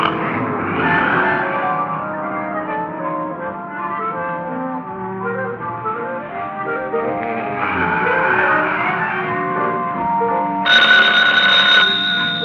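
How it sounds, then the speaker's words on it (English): A desk telephone rings in a police squad room in an old radio drama, its bell sounding near and loud over dense orchestral music. "Oh, phone, Gino."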